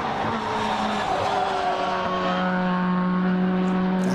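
Silhouette-bodied racing cars, among them a Vauxhall Tigra, scream around the Silverstone International circuit, engines droning loud and continuous with a steady high whine and shifting pitch as they pass.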